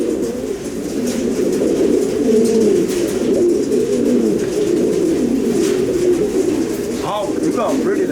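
Fancy pigeons in a loft in Florida coo in a dense, continuous murmur of overlapping low calls, with some wing flutters and background bustle, steady throughout.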